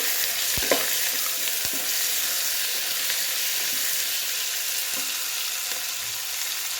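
Chopped onions roasting in a hot pan give off a loud, continuous close sizzle, with a few sharp knocks or stirs early on and no voices.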